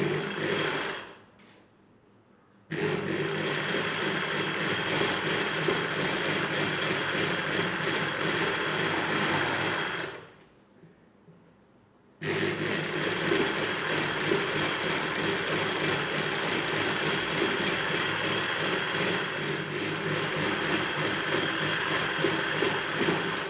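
A sewing machine double-stitches panels of a saree petticoat in two long continuous runs of rapid, even mechanical whirring, broken by brief pauses, close and steady with no talk.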